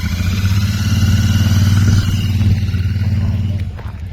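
A Royal Enfield motorcycle engine runs at a cars and bike show at Hampton Ferry, a loud close low thumping idle with a steady rhythmic pulse that fades slightly near the end.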